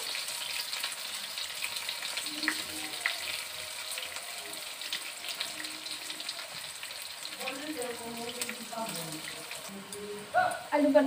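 Snakehead fish sprinkled with salt and turmeric frying in hot oil, a steady soft sizzle throughout with occasional clinks and stirring noises, a voice briefly audible over it.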